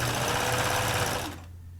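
A sewing machine stitches a skirt hem in a steady, loud whirring run that holds for over a second, then slows and cuts off, leaving a faint low hum.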